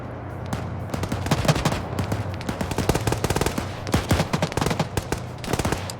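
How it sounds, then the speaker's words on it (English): A Scorpion gunner's machine gun fires in long rapid bursts throughout a video game battle, loud and close, with brief gaps between volleys and no talking. "Clueless getting shot to shit by that Scorpion gunner"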